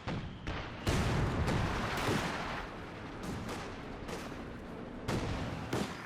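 Machine gun fire in the WWII strategy game Company of Heroes 2 rattles in dense, loud bursts with booming artillery shots mixed in, continuous across the battle.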